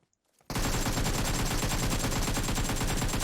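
Gunfire erupts in PUBG Mobile after a moment of near silence, a loud, sustained automatic burst of rapid, evenly spaced shots that runs unbroken to the end.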